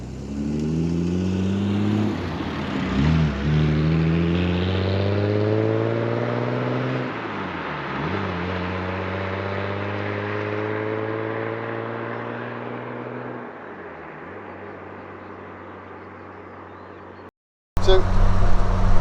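A 1971 Triumph Vitesse Mk2 accelerates through several gears, each rising engine note climbing then dropping at the shift, heard loud from inside the car before cutting off near the end.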